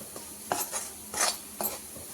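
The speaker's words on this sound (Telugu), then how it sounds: "ఇది ఒక 2 మినిట్స్ మనం బాగా ఆయిల్లో ఫ్రై చేసేసుకుందాం" Frying in oil in a pan for an egg and garlic chili dish, with a few quick scraping stirs of a utensil against the pan over a low sizzle, close by.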